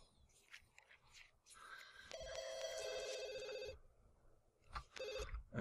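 Telephone ringing in The Sims 2, a clear electronic trill lasting over a second, followed after a pause by two shorter rings, amid soft game sounds.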